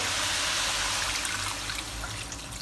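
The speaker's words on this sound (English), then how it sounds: "Now we'll add in 600 milliliter of water." A steady stream of 600 millilitres of water pours and splashes continuously into a cooking pan, close by and fairly loud, with no voices.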